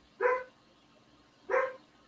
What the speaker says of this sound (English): Hear the dog in the background.